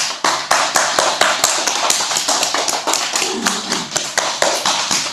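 Hands pat the legs briskly in a yoga and qigong session, a close, steady stream of quick slaps repeating evenly without pause.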